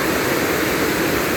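Greenville Falls pouring down into its stream, a loud, dense, unbroken roar of rushing water heard up close.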